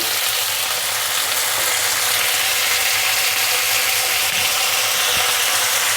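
Finely cut tomato pieces frying in a pan alongside potato for a sprouted cowpea and potato curry, giving a loud, steady sizzle that holds without a break throughout and has no talking over it.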